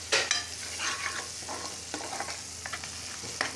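Onions fry in a pan for an egg curry, a steady sizzle broken by scraping spoon stirs and occasional clatters close by, with no talking.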